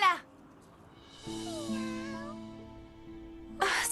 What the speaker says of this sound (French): Oh, c'était juste un chaton.